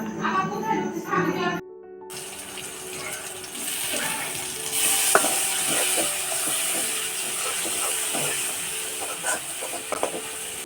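Spices and tomato cooking in a pan on a stove at an outdoor picnic, a steady sizzle and hiss with stirring scrapes and clinks, close by after a brief voice at the start.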